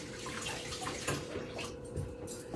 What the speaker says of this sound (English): Let me rinse my hands real quick. I've got soapy water over here.